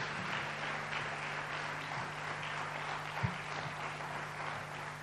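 A church congregation claps in sustained, even applause that fills the room at a moderate distance, with a low steady hum beneath and no talking.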